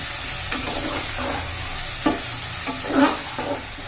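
Rice and peas sautéed together for a veg matar pulao, with a steady close sizzle broken by several soft scraping stirs of a spoon against the pot.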